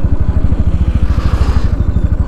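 Motorcycle engine idling and rumbling steadily close by during a group bike ride, a low pulsing throb with no talk as the rider eases the bike to the roadside.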